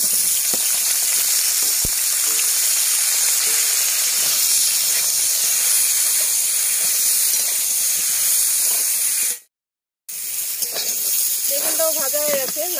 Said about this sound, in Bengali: বেগুনটাও ভেজে নেব লবণ আর হলুদ দিয়ে।